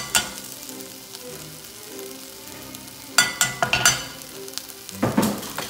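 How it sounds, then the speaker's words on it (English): Garlic sizzling in a frying pan beside salmon, a steady frying hiss broken by clattering scrapes and knocks of a utensil stirring, close and clear, with no talk. "stir this up a little bit just to get some of the garlic to the bottom of the pan so it can toasterate"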